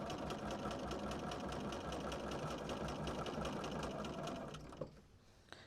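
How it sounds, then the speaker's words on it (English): A sewing machine runs steadily, stitching through quilt fabric for a half square triangle block, a loud continuous whirring chatter that stops abruptly near the end, followed by a couple of small clicks. "I like to have my needle down in the down position when I sew"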